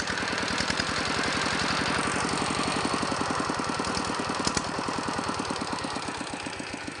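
A motorcycle engine running close by at a steady idle, its rapid, even firing pulses thumping in a regular rhythm for the whole stretch with no voices.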